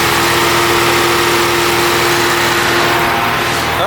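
Ford Mustang engine idling steadily right after an NGK spark plug install, a continuous close, loud hum with a constant low tone and no talk.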